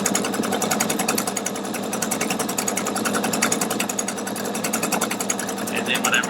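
Pfaff Quilt Expression 720 sewing machine stitching a tapered seam, a rapid, even mechanical chatter running continuously at close range.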